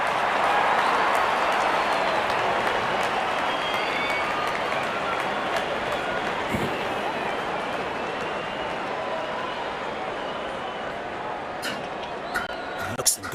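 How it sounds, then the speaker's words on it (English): Cricket crowd applauding a batsman reaching fifty, a broad steady wash of clapping and crowd noise throughout, loud and sustained with a few sharper claps near the end. "Wonderful 50 and the crowd applauds"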